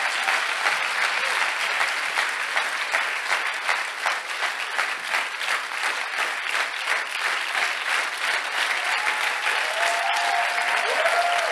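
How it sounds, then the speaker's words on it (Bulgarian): Sustained applause from a church congregation, dense steady clapping from a crowd filling the room at an even loudness throughout, with no talk over it. "Хайде, ръкопляскай, ако вярваш,"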